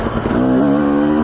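A dirt bike motorcycle engine on a mountain trail ride to Smith Mountain, Idaho, drones loud and close, its steady buzzing pitch rising slightly as the rider holds the throttle.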